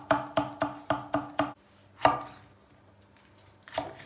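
A knife chops parsley on a cutting board: six quick, crisp, evenly spaced strokes, a pause, then two more single chops. Close and clear, with no talk.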